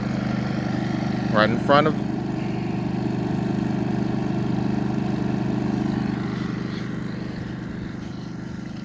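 A Westinghouse iGen4500 generator engine hums steadily nearby with efficiency mode switched off, holding a continuous mid-pitched drone throughout while a voice speaks briefly over it.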